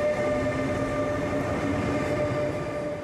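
Steady rumble of a train at Budapest's Keleti main railway station, with a constant low drone and faint tonal hums running evenly throughout, close and continuous with no voices.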